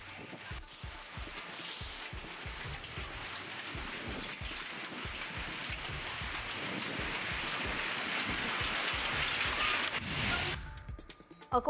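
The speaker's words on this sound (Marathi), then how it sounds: "जळगाव जिल्ह्यातील रावेर तालुक्यामध्ये अवकाळी पावसासह गारपीट झाली." Steady unseasonal rain with hail pours down in Raver taluka, Jalgaon district, growing gradually heavier and louder, with a low rumble underneath before it cuts off.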